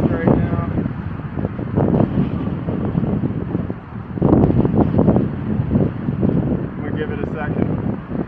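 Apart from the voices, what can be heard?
strong gusty wind, about 40 mph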